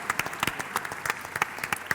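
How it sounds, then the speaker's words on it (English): Audience applause for a panel at the close of a session on the Playground Stage at South Summit Bogotá, a steady patter of many hands clapping at moderate distance, with no talk over it. "big applause for our panel"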